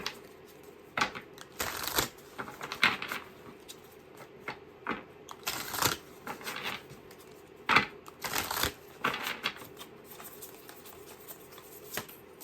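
A deck of reading cards is shuffled near the microphone in irregular bursts of papery riffling and slaps, spread across the whole stretch with short pauses between them and no talking.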